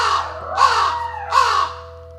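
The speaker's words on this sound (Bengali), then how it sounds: "কাক উচ্চ স্বরে সংকেত দিতে শুরু করলো।" A cartoon crow caws loudly three times in harsh, evenly spaced calls, close and alone over a faint steady hum.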